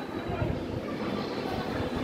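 A metro rail train rushing into Uttara Central station, a broad, steady rumble with wind-like roar heard up close on the platform, while someone talks faintly nearby.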